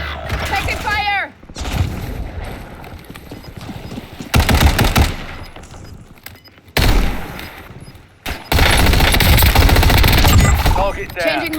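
Bursts of automatic gunfire from a Call of Duty Warzone match crackle in loud, dense volleys separated by quieter gaps, with in-game radio voices calling out between the shooting.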